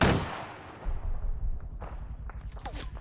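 A rocket launcher fires in Arma 3 during a squad battle: a sharp blast opens the moment, then rumbling low booms and scattered gunfire roll on around it in a dense, noisy fight.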